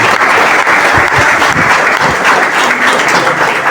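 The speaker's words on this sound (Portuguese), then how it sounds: "Dá uma salva de palmas para Jesus" Dense, steady applause from a church congregation during a pastor's installation service in Aratuípe, loud and close, filling the whole stretch without a break.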